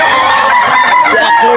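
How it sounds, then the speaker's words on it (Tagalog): A White Kelso stag rooster gives a loud, close crow at a busy poultry market in Bocaue, Bulacan, the call filling the short moment. "Gandang manok."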